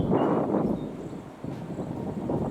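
Steady wind blowing through Cloddymoss forest on a mild day, a continuous broadband rush that swells and dips in gusts with no talk.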